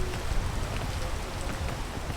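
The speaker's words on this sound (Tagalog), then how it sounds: "Ulan lang." Rain falls steadily inside the video game PEAK, a continuous broadband hiss and patter holding even across the whole stretch, with faint background talk underneath.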